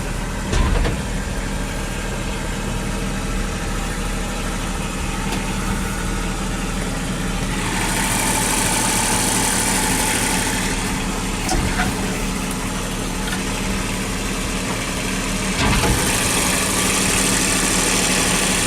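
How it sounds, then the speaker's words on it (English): A 1954 Packard car engine running with a steady low rumble and some vibration, loud and close throughout, with a brief louder surge partway through and no talking. "Wheels are turning. And the motor's turning."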